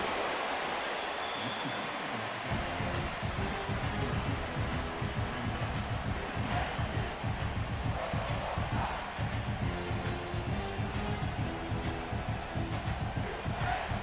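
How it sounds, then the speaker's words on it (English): A roaring stadium crowd in the College Football 26 video game keeps up a dense, steady wall of cheering and chanting with rhythmic low pulses, like a band or stomping, running loud and continuous throughout. "This crowd bringing the energy and noise early."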